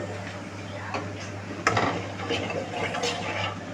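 Whole fennel and cumin seeds stirred in hot oil in a pan for a vegetarian paneer dish, giving soft scraping and a faint sizzle with one sharper clink of a utensil midway, close and steady.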